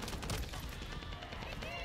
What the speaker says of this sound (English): Let's stop the gunfire.